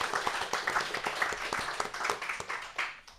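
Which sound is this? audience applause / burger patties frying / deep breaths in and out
audience applause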